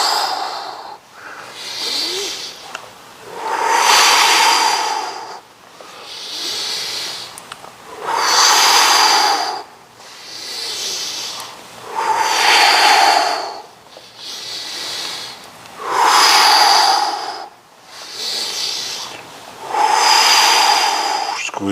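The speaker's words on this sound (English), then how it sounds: "we're going to breathe as we do these" Slow, deep breaths during a guided movement exercise: loud, close inhales and exhales alternating in a steady rhythm of roughly two-second pulses, with no talking over them.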